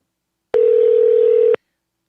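A steady one-second telephone calling tone, a single clean electronic beep that starts and stops abruptly, loud and alone with silence on either side, heard while phoning someone live on air.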